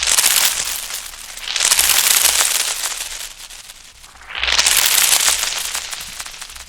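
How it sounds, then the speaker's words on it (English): Dense, crunchy foley texture run through a grain delay, bright crackling grains spraying in two loud swelling bursts with a softer dip between, no voice. "First off is grain delay."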